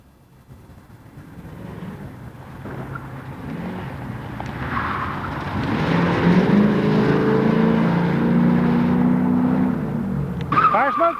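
Car tires skid and squeal at an autocross event, a Datsun 240Z on the course, engine noise building into a loud, sustained screech near the end, with crowd chatter and voices running underneath.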